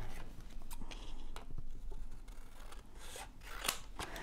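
Scissors snipping through paper while making junk journal pieces, a few quiet close cuts and rustles over low background hiss, no one talking.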